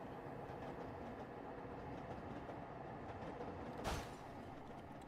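A train pulls away in the video game Eden Crafters, a steady rolling rumble with rhythmic rail clatter that runs throughout and is broken by one brief sharp burst near the end, fairly quiet with no talking.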